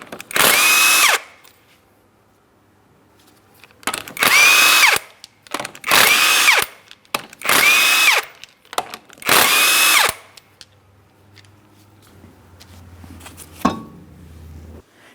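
Impact gun or power drill spinning off the 19 mm lug nuts from the front wheel of a 2003-2007 Cadillac CTS, five loud whirring bursts of about a second each with short pauses, followed by quieter clinks and a low hum.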